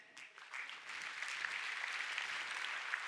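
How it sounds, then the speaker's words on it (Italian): Applause fills a theatre during an Italian business awards ceremony as a company administrator collects a prize, a dense, steady wash of many hands clapping that swells after the first half second and holds evenly. "Anche per lei l'applauso del teatrone"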